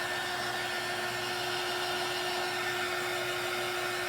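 Hair dryer blowing on a small handmade craft piece, a steady whirring hum with a constant pitched whine, moderately quiet and unbroken, no talking.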